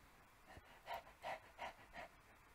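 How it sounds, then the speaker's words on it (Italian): A character in the horror video game Paranoiac pants in four quick, breathy bursts at an even rhythm, soft and close against a quiet background. "Miki Takamura che ansima."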